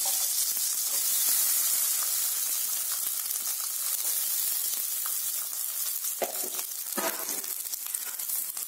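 Onion and garlic dropped into hot oil, with mustard seeds and lentils added, frying in a steady loud sizzle and hiss that runs throughout, with a few stirring scrapes toward the end.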